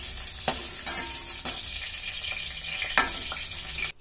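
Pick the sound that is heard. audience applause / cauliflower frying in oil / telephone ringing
cauliflower frying in oil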